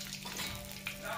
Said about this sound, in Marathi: तेल भरपूर तापलं पाहिजे. तुमची मोहरीचा आवाज झाला पाहिजे व्यवस्थित. मोहरी टाकून घेऊ